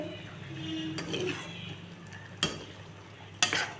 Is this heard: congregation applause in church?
no